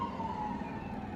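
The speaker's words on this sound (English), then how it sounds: "And there's a siren right outside my window." An emergency siren right outside a window, a sustained high wail with slight pitch drift, steady and fairly loud against street noise.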